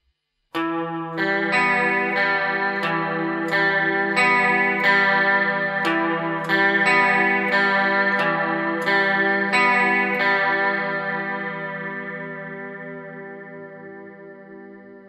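Electric guitar picking a repeating post-punk arpeggio pattern on the third, second and third strings, down-up-up, with a shimmering chorus effect, steady rhythm of plucked notes ringing out and fading at the end.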